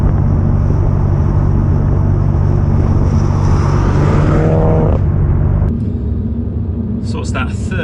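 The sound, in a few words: Mulgari ICON2 Warbird car engine driving in second gear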